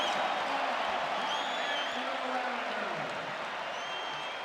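A lively crowd at the 2003 McDonald's All-American high school basketball game cheers and applauds a play, a steady roar of voices and clapping filling the arena, with an announcer speaking over it.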